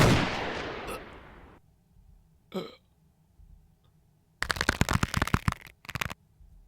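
Gunshots in a Batman motion comic soundtrack: a burst of noise fading out, a lone sharp shot, then a rapid cluster of loud repeated bangs near the end.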